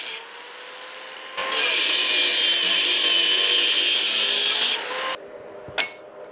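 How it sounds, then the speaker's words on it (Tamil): Power drill boring a hole through an iron bar for a 10 mm bolt during a chainless bicycle modification, a steady loud whine for about four seconds that then stops, followed by a short sharp knock. "அந்த பட்டையில் வந்துட்டு பார்த்தீங்கன்னா ஒரு 10 mm போல்ட்டு போடுற மாதிரி நான் ட்ரில் பண்ணி ஓட்ட போட்டுக்கிறேன்"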